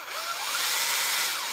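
A Ridgid cordless drill whirs steadily with its trigger held down, a close and continuous motor whine with no pauses.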